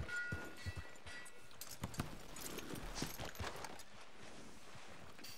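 Horse hooves clip-clopping in the video game Red Dead Redemption, a steady trotting rhythm of close, distinct hoofbeats with no talking.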